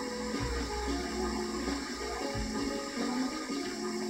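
Steady rushing water of Sonic taking a shower in Sonic Adventure DX on GameCube, a continuous loud spray with game music tones layered over it, unbroken throughout.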